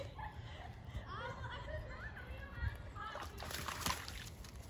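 Muddy water splashes outdoors in a backyard, a broad wet slosh near the end amid steady background noise, with someone talking and laughing nearby.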